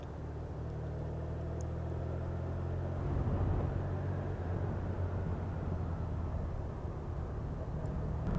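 Honda VFR1200 motorcycle cruising at about 30-35 mph, a steady low engine drone mixed with rushing wind noise that swells slightly partway through and holds constant, with no talking.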